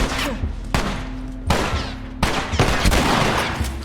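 Shotgun blasts and gunfire ring out in The Last of Us, loud, sharp reports at irregular intervals over a continuous backdrop of game noise, with no talk.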